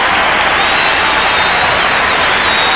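A tennis crowd applauding John McEnroe, a loud, dense, unbroken wall of clapping from a large audience.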